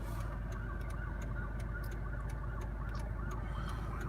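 Police car sirens wail faintly in the distance, a repeating up-and-down rise over steady road and engine rumble, with a few sharp clicks.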